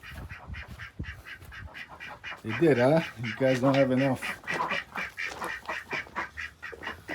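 Farm ducks quack in a loud nasal burst of several calls mid-way, with a person talking over and around them.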